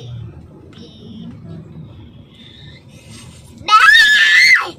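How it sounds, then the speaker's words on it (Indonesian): A loud, piercing scream breaks out near the end, over a low rumble of a car cabin on a highway homecoming trip, after a stretch of faint background murmur. "Siapa yang teriak-teriak tu?"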